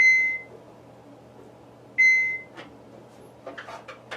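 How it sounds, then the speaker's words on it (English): Two short electronic beeps sound about two seconds apart, followed by faint clicks and rustling nearby. "You will hear an initial beep, and then when you hear a second beep"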